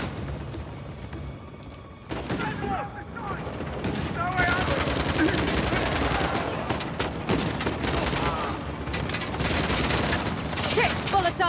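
Sustained gunfire in Uncharted: The Lost Legacy during a train sequence, dense rapid bursts of shots rattling almost continuously and loudly after a brief quieter opening, with someone talking over it.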